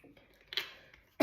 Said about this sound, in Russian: Да, конечно, кашель у меня,